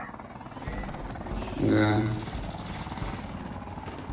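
A helicopter in the video game Call of Duty Mobile gives a low, buzzing rotor drone that swells briefly, heard under game sounds while players talk.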